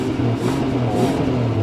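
A Toyota JZX100 Chaser Tourer V engine rumbles and revs steadily through an adjustable aftermarket muffler, a low throaty drone with slight rises in pitch, close by and fairly loud.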